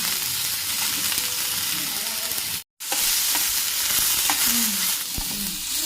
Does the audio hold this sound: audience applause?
no